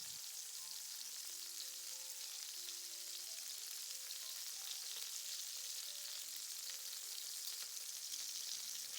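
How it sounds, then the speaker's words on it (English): Shrimp fry in a hot pan with a steady, soft, crackling sizzle that holds for the whole stretch, with no voices over it. "Cook the bottom sides of the shrimp for 1 minute. Then turn them over and cook for another minute"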